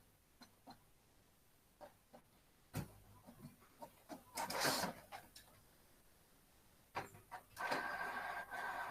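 An office printer working through pages, faint irregular mechanical clicks and whirs building into louder feeding and printing bursts, heard nearby in a quiet room.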